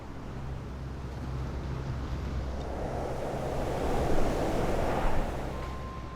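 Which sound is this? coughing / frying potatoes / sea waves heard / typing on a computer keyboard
sea waves heard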